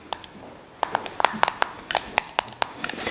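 Crab meat and mayonnaise being mixed in a bowl for Korean rendang gimbab, giving a run of sharp utensil clinks and taps against the dish, fairly close and irregularly spaced, with no talk over them.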